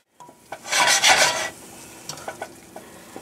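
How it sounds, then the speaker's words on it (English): Onions, garlic, basil and Italian seasoning sizzle loudly in a pot for about a second, then settle into a quieter saute broken by a few light scrapes and taps of stirring. "I'm going to let these saute for a few minutes"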